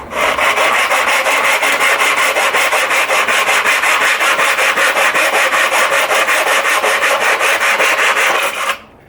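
A hand saw cuts a straight 90-degree section of wooden door trim, the architrave casing. Its rapid, steady back-and-forth strokes rasp loudly and close for about nine seconds without a break, then stop abruptly.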